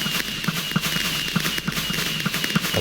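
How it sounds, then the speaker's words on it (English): A fireworks display in the video game Divine Woods, with a run of quick popping bursts and crackles at an uneven rhythm over a steady bright hiss, fairly loud and close, with no talk. "one of the players puts on a nice little fireworks display at the end, which is quite nice"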